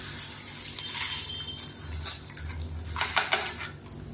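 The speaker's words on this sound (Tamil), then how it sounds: "இப்போ ஒரு மிக்சி ஜார் எடுத்துக்கலாம் இப்போ வறுத்து வச்சுருந்த தோரம் பருப்பு வரமிளகாவை சேர்த்துக்கலாம்" Roasted dal and dried red chillies tipped into a mixer jar, a short run of clinks, rattles and clatter against the jar over a rumbling background, close with no speech.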